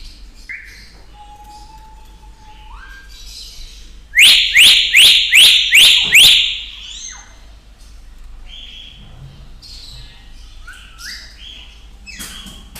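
A caged myna bird calls at a bird keeper's setup: a rapid run of about six loud, sharp, ringing calls sits in the middle, with softer chirps and whistles from other birds scattered around it.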